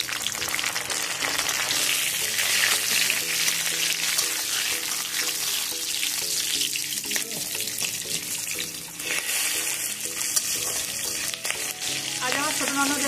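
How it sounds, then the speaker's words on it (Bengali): Nigella seeds, green and dried chillies and bay leaf crackle in hot oil as a tempering, a loud continuous sizzle lasting throughout, with faint music in the background and no clear speech. "দিয়ে দিলাম কালো জিরে, কাঁচা লঙ্কা, শুকনো লঙ্কা, তেজপাতা ফোড়ন।"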